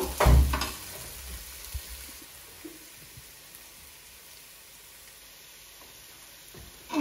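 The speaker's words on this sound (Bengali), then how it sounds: "তো দেখতে পারা পেঁয়াজটা বালা করে ভাজা হয়ে গেলে আমি চাউলটা দিলাম।" Small onions with whole cumin fry in a pan for Sylheti yakhni pulao, a soft, low sizzle that continues steadily after a loud clatter at the start, with faint scrapes and another knock at the end.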